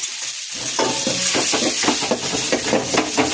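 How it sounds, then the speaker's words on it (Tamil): Garlic sizzles and is stirred in a hot pan while sautéing for a sardine and raw mango fish curry, a steady close crackling frying sound with stirring scrapes, no talking. "வெள்ளைப்பூடு போட்டு வணக்கிங்க"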